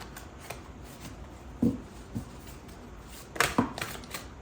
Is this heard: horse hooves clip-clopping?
no